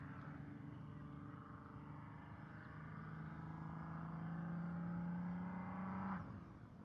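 A BMW 340 running laps at a private track day, its engine note droning and rising steadily as it builds revs, fairly distant, then cutting off near the end.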